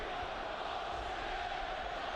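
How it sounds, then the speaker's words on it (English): A football stadium crowd roars in a steady, dense wash throughout, backing a Stade Rennais player during a Sunderland match, with no clear breaks or peaks. "And listen to the crowd, very much behind him."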